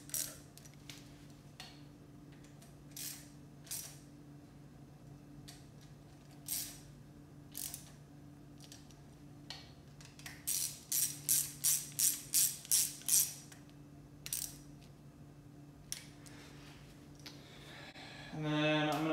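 Rapid ratchet clicks from tightening rod bearing bolts on an E46 BMW M3 engine in a home garage, coming in short bursts with a dense run midway and a louder whir at the end, with no talking.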